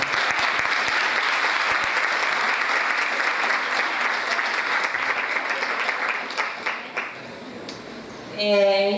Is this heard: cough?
no